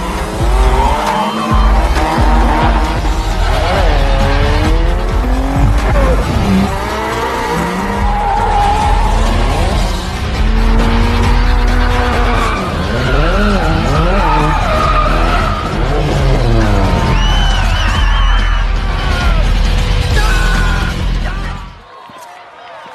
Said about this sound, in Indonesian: Setelah itu, Sean test drift bersama Hans dan ia juga berhasil mengalahkan teman Takeshi.